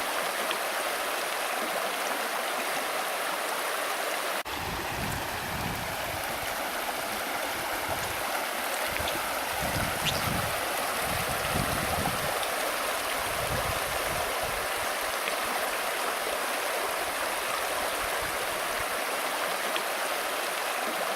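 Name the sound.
Gradac river flowing through a gorge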